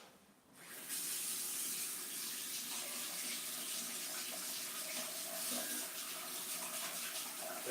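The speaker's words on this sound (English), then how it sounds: "I just go wash my brush" Water runs steadily from a tap as a paintbrush is washed in a sink, a loud, continuous splashing rush that starts abruptly and holds for several seconds.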